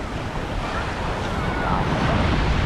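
Heavy ocean waves roll in at Laguna Beach, a steady loud roar of surf with wind buffeting the microphone throughout.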